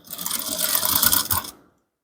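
A sewing machine runs a short burst of top stitching on trouser fabric, with rapid mechanical clatter and ticking for about one and a half seconds before stopping dead.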